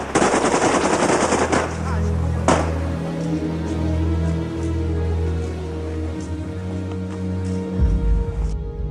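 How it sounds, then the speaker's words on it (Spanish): A firing squad lets loose sustained machine-gun bursts, loud rapid fire that stops and starts, with a ringing tonal hum lingering under the shots. "El pelotón disparó con rabia."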